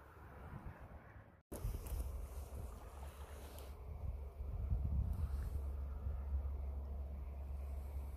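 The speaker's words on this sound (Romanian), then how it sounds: "Bate vântul ăsta șuieră." Wind blows strongly outdoors on a winter day near fishing waters, a steady rushing gust that buffets the microphone, loud and continuous after a brief cut, rising further midway.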